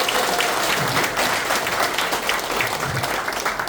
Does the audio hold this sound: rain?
no